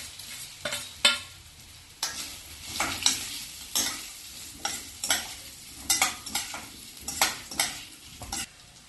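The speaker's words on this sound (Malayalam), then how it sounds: "ഇനി മുറിച്ച് വെച്ച മധുരക്കിഴങ്ങ് ചേർത്ത് നല്ലോണം ഇളക്കി മിക്സ് ചെയ്യാം" A spoon stirs chopped sweet potato in a frying pan, giving repeated scraping knocks against the metal about once a second over a soft background sizzle, close and moderately quiet, with no talking.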